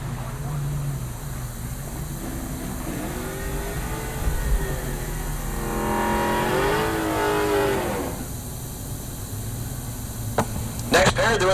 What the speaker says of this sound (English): Next pair doing their burnouts.